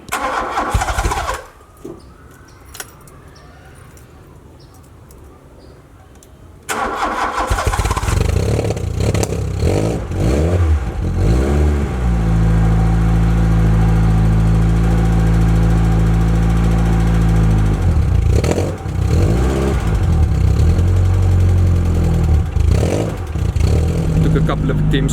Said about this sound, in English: let me start the car up quickly and get it onto the lift